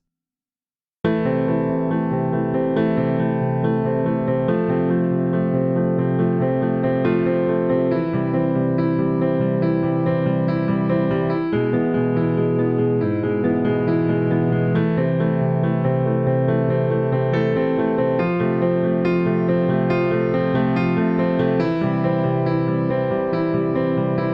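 Sustained piano chords ring out continuously, layered and resonant, played at a steady moderate pace with no voices.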